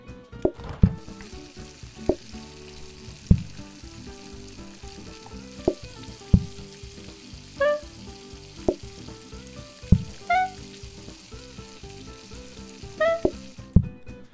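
Food sizzles steadily on a griddle in the restaurant cooking game PlateUp!, with a continuous frying hiss broken by regular clicking interface sounds and short chimes, and no talking.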